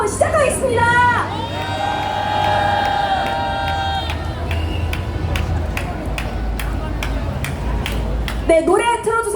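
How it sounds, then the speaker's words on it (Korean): A large crowd at an outdoor candlelight rally in Korea claps and cheers with shouts and whoops, while a loud amplified voice and tones ring over the din. "100일차 촛불 대행진 윤석열 탄핵무자제를 큰 박수로 시작하겠습니다."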